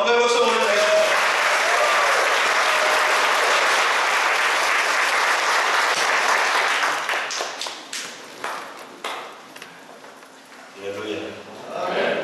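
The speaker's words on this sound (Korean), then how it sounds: "우리 한번 목사님 한번 나오셔서 우리 감사와 영광의 박수 올려드리겠습니다." Congregation applause at a church spiritual retreat for small-group leaders, a dense, loud wash of clapping from a large crowd that holds steady, then thins into scattered claps as a voice begins speaking near the end.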